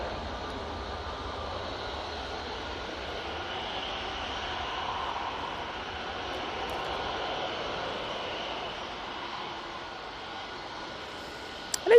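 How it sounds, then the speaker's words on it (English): A Boeing Dreamliner airliner comes in to land at Manchester Airport, its engines a steady distant rumbling roar lasting throughout, with no talking. "I'm just keeping an eye on this Dreamliner coming in"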